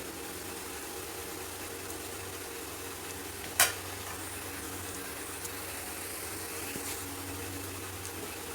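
Chili powder and salt are stirred into a frying pan of clams (kakka fry), giving a steady soft sizzle with a single sharp clink of a utensil midway and no voices.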